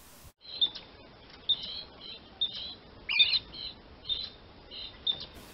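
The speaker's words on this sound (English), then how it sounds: "Did you hear the birds?" Several birds chirp and tweet in short bright bursts, spaced out over a quiet background hiss, like birdsong in a calm forest.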